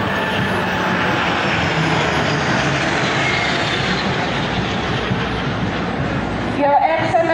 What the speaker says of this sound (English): Escorted with by two L-15 fighter aircraft.